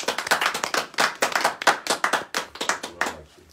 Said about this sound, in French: Je veux qu'on acclame très fort le Seigneur.